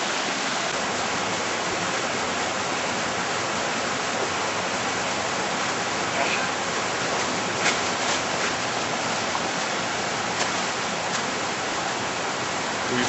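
Steady, full-bodied rush of flowing river water, constant and close, with no voices and only slight swells in the wash.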